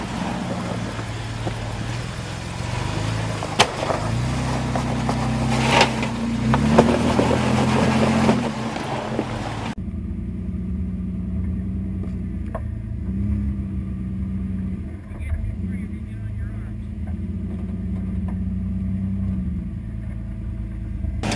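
A Jeep crawls slowly over a rocky off-road trail, its engine a steady low rumble throughout, with the tone shifting partway as the vehicle eases along at a near, constant level.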